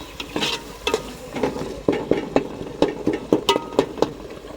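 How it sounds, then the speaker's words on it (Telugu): Tomatoes fry in oil in a pan for a fish curry, with a soft steady sizzle under repeated scraping stirs of a utensil, roughly one stroke per half second. "మేమైతే టమాటాలు మంచిగా నూనెలే ఫ్రై చేస్తాం. ఇట్లా మంచిగా దగ్గర ఉడుకుతాయి."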